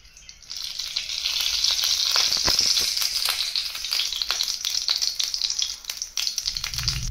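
Oil sizzling and frying in a hot wok in a home kitchen, a steady bright crackle that starts quietly, builds, and holds loud and close for several seconds, with no voices.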